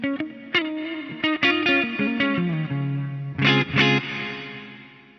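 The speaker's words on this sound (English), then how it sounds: "I just want to hear the hall reverb." A synth or keyboard phrase runs through a Korg A3 multi-effects unit set to hall reverb, with plucked notes and chords that ring out and decay in a washy, spacious tail.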